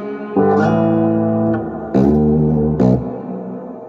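Three electric guitar chords ring out one after another through an Orange Crush Pro 120 amp head, each sustained with a wet, splashy spring reverb tail.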